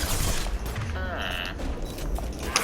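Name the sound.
gunfire in the Mass Effect 2 video game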